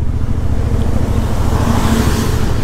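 A big truck labors past on a winding mountain road in Brazil, its loud, steady engine rumble close and continuous alongside motorcycle and road noise.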